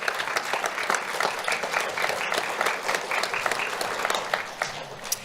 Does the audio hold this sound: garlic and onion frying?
no